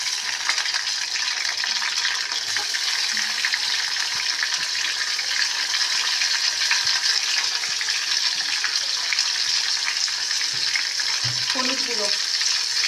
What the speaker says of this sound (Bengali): এবারে দিয়ে দেবো এর মধ্যে পেঁয়াজ আর দেবো রসুন